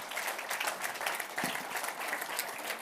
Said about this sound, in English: Give this guy a round of applause